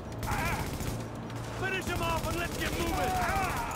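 Gunfire in The Division, a shooter set in virus-struck New York: dense, steady volleys of shots run throughout beneath constant game noise, with players talking over it.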